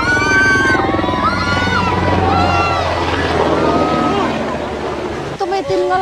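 Helicopters pass overhead above a typhoon-struck area, a loud continuous engine and rotor roar that stays close for several seconds before easing off, with a brief clatter at the very end.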